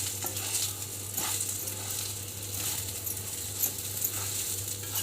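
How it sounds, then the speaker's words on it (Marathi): Peanut-stuffed green chillies fry over low heat in an uncovered pan and are stirred, producing a faint, soft sizzle with light scraping and occasional clinks. "परत आपल्याला हलवून घ्यायचं चांगलं."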